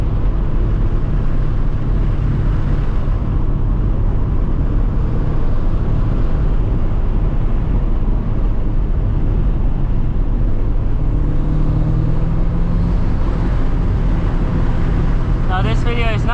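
Turbocharged Mazda NA Miata MX-5 with short gearing driving, a loud, steady engine and road drone heard from inside the cabin, briefly rising toward the end.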